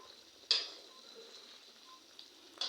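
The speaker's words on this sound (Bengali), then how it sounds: "এই যে পেঁয়াজগুলো আমার ভাজা হইতেছে" Onions and rohu fish fry in hot oil with a soft, continuous sizzle, broken by a sharp spatter near the start and a couple of fainter pops later.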